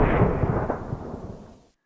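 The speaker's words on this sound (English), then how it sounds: "the pair of gunshots startled vultures at the far end of the dense wood" Gunfire in a dense wood sounds as a single heavy, rolling boom that fades out over about a second and a half before sudden silence.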